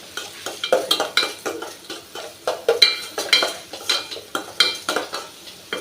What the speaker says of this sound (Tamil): இந்த வெங்காயம் வந்து அந்த பச்சையாக இருக்கிறது இல்லாமல் நல்லா வதங்கணும்.